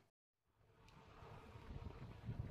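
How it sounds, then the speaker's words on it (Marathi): Strong gusty wind during a motorcycle ride on the road from Mumbai toward Devgad rises from near silence into a loud, rumbling roar buffeting the microphone, building in strength toward the end. "जबरदस्त असा वादळी वारा इथे चालू आहे, सोसाट्याचा वारा येतोय"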